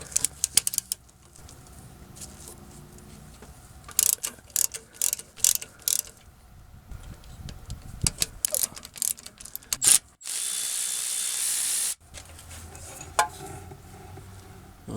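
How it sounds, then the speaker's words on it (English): A hand ratchet loosens the 13mm starter bolts on a 2015 GMC Yukon XL, with quick bursts of close clicking separated by pauses. Near the end there is a brief, louder, steady hiss. "So we just need to loosen and remove these two 13mm bolts here."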